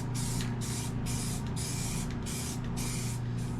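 A spray paint can lays a first coat on the edge of a repower kit part in rhythmic bursts, about six hissing sprays with short gaps over a steady low machine hum, no talking.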